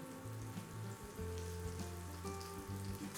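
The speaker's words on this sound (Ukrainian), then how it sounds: "Тепер обсмажуємо баклажани на добре розігрітій сковороді на олії для смаження до красивої рум'яної скоринки." Eggplant pieces fry in oil in a well-heated pan, giving a steady, close sizzle and crackle that runs without pause, with no talking.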